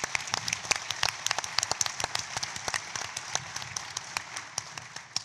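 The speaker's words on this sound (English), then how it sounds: "So let's give him a big round of applause." Audience applause for Bart Gordon at a 2019 ARPA-E Summit panel, with sharp, distinct claps from a crowd in a conference hall, sustained across the whole stretch and slowly thinning toward the end.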